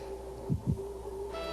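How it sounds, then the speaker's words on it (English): A cartoon heartbeat from a swallow lying on frozen earth, two soft low thumps in quick succession over a steady background hum, alone without voices. "I can hear a heartbeat, so the swallow must still be alive."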